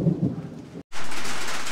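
Loud outdoor thunder and heavy rain in the Philippines, a deep rumble breaking off briefly before a dense roar of rain.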